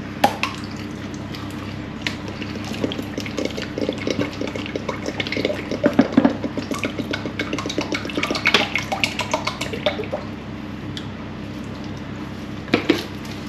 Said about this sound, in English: I'm going to pour the vegetable oil into the pan